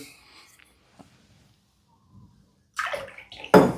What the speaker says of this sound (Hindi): थोड़ा पानी होगा तो इसमें हल्का रिंस कर ले